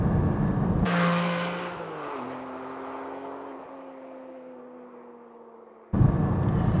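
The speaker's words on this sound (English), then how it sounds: "with that naturally aspirated six cylinder engine, you want to hear it." A Porsche 718 Cayman GT4's naturally aspirated six-cylinder engine revs hard, then holds a droning, gradually falling tone before another sharp blast of revving at the end.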